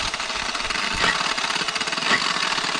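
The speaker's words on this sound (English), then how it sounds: "Doing a nice adjustable RPM polisher is gonna realistically be the way to go" An adjustable-RPM polisher running at roughly 500–600 RPM on a forged wheel gives a steady, close, pulsing motor buzz with two brief swells in intensity.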